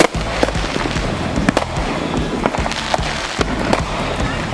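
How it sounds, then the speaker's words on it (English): Fourth of July fireworks and firecrackers pop and crack repeatedly nearby, irregular sharp bangs overlapping one another like a war zone. "You doing fireworks?"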